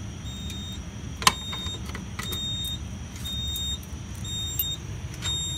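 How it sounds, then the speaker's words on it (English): Residential fire alarm system sounding after key activation, with repeated high electronic tones pulsing in a steady pattern over a low background rumble, moderately loud and heard without talk, with one sharp click early on. "We've got our first alarm."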